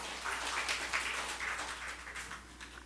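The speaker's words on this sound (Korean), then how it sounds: "우리 하나님께 박수 올려드려요" A congregation claps together during a Korean church Sunday service, a soft, steady patter of many hands that stays fairly distant and faint for a few seconds.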